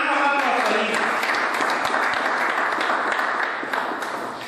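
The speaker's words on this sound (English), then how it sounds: "Please, a round of applause for him." A youth council gathering in Plateau State applauds a speaker, a dense burst of clapping with a voice briefly audible at the start, gradually thinning out.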